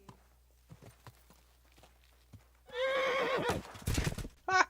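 Soft, scattered hoof clops lead into a loud, wavering horse whinny, followed by a few more sharp hoof beats and a brief snort, in the video game Kingdom Come: Deliverance II.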